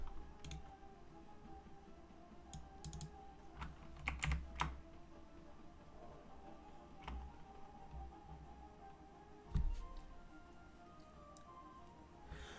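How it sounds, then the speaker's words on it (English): Keys clack on a Razer BlackWidow Chroma keyboard in quiet, irregular bursts, with occasional louder taps among the soft steady typing. "I have a Razer Black Widow Chroma. I believe that is the keyboard I'm using."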